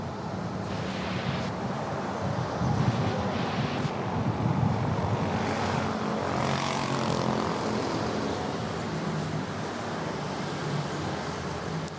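An Airbus A321neo airliner on runway 13 at Manila airport, bound for Iloilo, producing a steady, broad engine roar that holds at an even level throughout, with a faint wind-like rush over it.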